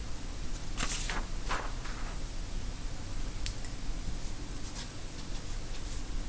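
Pen scratching out a number by hand on paper, several short close strokes with small pauses, faint and alone over a steady low room hum.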